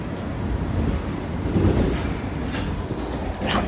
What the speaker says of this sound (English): This is the train that I'm on.